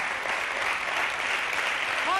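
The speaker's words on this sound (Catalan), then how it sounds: "un aplaudiment per dir-ho a la Fòbica." Studio audience applauding during a televised Andorran national song contest semi-final, a steady dense clatter of clapping sustained throughout at fairly loud level, with a voice briefly rising over it near the end.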